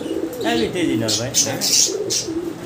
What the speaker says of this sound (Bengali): ঘিয়াচল্লি কবুতর চুইটাল, দুইটাই হচ্ছে চুইটাল।